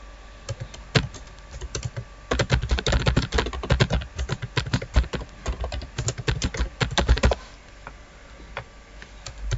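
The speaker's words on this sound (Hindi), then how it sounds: "मैं किसी भी इदारे का नाम लिखता हूँ।" Fingers type on a computer keyboard in quick, uneven bursts of close clicks, with brief pauses at the start and near the end, and no speech.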